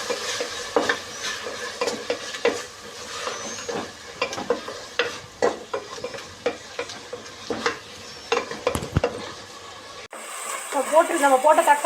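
Sliced tomatoes sauté in a ginger-garlic masala for fish biryani, with a soft sizzle and repeated scraping, stirring strokes of a spoon in the pan, ending in a brighter, louder burst of frying.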